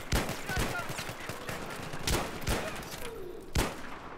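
Rapid gunfire from a high fire-rate weapon in the video game Battlefield 3, with loud, sharp bursts of shots cracking out in quick clusters over a busy, noisy battlefield background.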